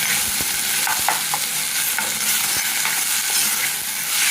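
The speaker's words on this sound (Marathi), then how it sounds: "कांदा आणि टोमॅटो एकत्र घालायचं आणि चांगलं आता हे कांदा टोमॅटो अगदी चांगला टोमॅटो जरा गळेपर्यंत" Chopped onion and tomato masala fry in a pan for a quick prawn gravy, with a loud, close, continuous sizzle and occasional stirring taps throughout.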